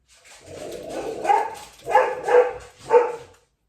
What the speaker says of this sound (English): Everybody's walking their dogs and Betty's saying hi